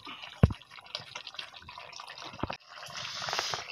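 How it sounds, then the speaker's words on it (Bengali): Spicy duck meat curry bubbling as it boils in a pot, soft wet popping and gurgling that runs steadily for a few seconds, with one sharper plop near the start and a hissier stretch toward the end. "মাংসটা প্রায় হওয়ার পথে টকবক করে ফুটতেছে"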